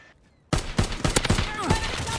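Gunfire in the World War II shooter Call of Duty WW2 erupts after a short quiet, a rapid burst of close, punchy shots that keeps cracking for about two seconds with no one talking.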